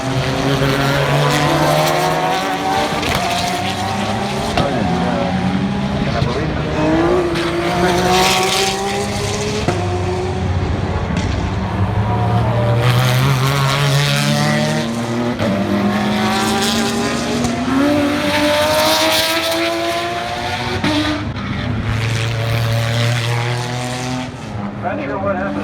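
Race cars roar past continuously at the Porsche Rennsport Reunion, engines rising and falling in pitch as they pass one after another, loud and sustained throughout, with some crowd voices under the engine noise.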